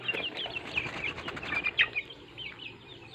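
Native chickens on a small backyard farm cluck and chirp in short, scattered calls, some near and some farther off, with a few wing flaps amid low outdoor background noise.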